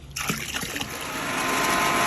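Water is poured into the housing of a Pentair 4000 pool filter, starting with a splash and settling into a steady, close, rushing pour that grows slightly louder.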